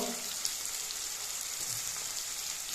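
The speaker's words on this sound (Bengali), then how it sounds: "লো হিটে রেখে পেঁয়াজটাকে ভেজে নেব।" Onions frying in oil over low heat for a mutton kosha, a soft, steady close-up sizzle with a fine crackle throughout, quiet and alone.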